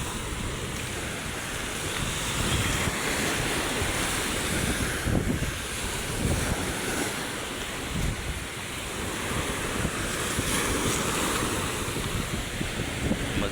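Strong waves wash and churn at Manila Bay under heavy wind buffeting the microphone, a loud, continuous roar of rough water that surges and eases without any talking.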